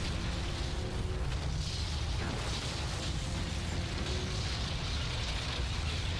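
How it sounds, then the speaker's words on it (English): A building explodes and crumbles in the Xbox 360 game 007: Quantum of Solace, with sustained deep rumbling and crashing debris, a sharp burst near the middle and steady roaring throughout, no voices. "Let's get out of this very loud exploding building."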